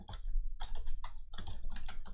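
Rapid clicking keystrokes on a computer keyboard as a folder is renamed, close and crisp, arriving in several quick bursts with short gaps between them.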